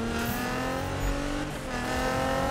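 A Nissan GT-R engine in the Need for Speed (2015) racing game drones steadily at high revs, a loud sustained engine tone with a brief dip, no talk over it.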